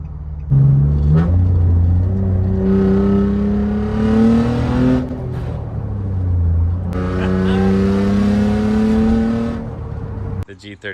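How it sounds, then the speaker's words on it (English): A 1994 Mazda Miata 1.8 with no muffler sends out an obnoxiously loud exhaust in two long revving pulls that rise in pitch, heard close from inside the car with the windows up. "Definitely needs a muffler. Like, it's not even as bad because the windows are up right now, but it is obnoxiously loud."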